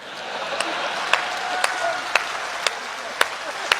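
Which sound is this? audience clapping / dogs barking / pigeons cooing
audience clapping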